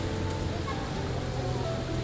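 Dense, steady rainfall hisses continuously at close range, a thick wash of drops with a low rumble beneath and faint background voices.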